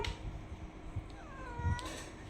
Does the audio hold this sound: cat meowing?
yes